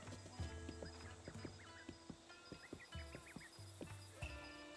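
A horse in the Breath of the Wild video game wanders nearby, with soft rhythmic clip-clop hoofbeats and occasional snorts over faint game ambience, quiet overall.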